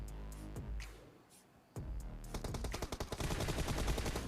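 Gunfire from PUBG Mobile as a player shoots an enemy: a quieter stretch with a few scattered shots, then rapid bursts of automatic fire that dominate the second half, loud and sustained.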